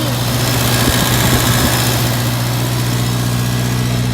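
An International Cub tractor engine with clogged carburetor jets runs close by, a steady, rough idle with a low, even hum and no speech.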